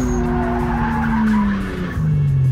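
Rear tires of a drift car screech loudly as the back wheels lock up and skid, a sustained squeal over the steady roar of the engine, close and continuous.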